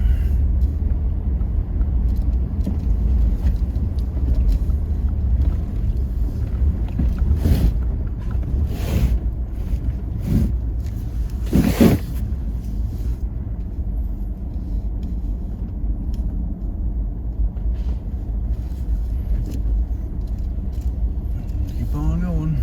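A car driving along a road through woods, with a continuous loud low rumble of engine and road noise plus wind buffeting, and speech heard over it at times.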